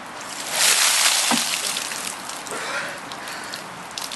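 A bucket of cold water dumped over a person outdoors during the Ice Bucket Challenge, a loud sudden splash and sloshing that fades into dripping runoff.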